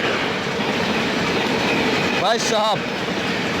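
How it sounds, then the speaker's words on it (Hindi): Bikaner–Sealdah AC Duronto Express overtaking the Amrit Bharat Express at Barthana station, with a steady loud rumble of rolling coaches and a brief rising wheel squeal near the end, a voice speaking briefly over it. "Bikaner Sealdah AC Duronto express overtake करते अपने अमृत भारत एक्सप्रेस को बर्थना स्टेशन पर।"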